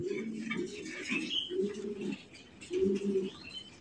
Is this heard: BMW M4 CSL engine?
no